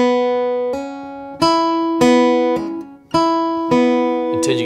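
Slow, halting acoustic guitar picking of the opening notes of the fiddle tune Horseshoe Bend, about six separate plucked notes, each ringing and decaying before the next, close and clear with no talking.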